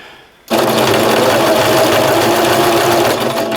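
A sewing machine starts abruptly and runs loud and steady for about three seconds, stitching a patch onto loose jersey fabric at close range with a continuous fast whir.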